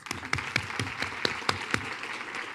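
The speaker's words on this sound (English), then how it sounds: "One more round of applause." Applause from a business forum audience, a burst of sharp individual claps standing out over a dense, steady patter of hands throughout, fairly close and continuous.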